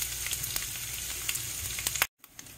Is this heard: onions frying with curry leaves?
yes